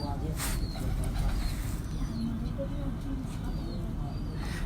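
Pigeons kept at a house coo in low, repeated rumbling calls close by, with someone talking over them and occasional other bird chirps.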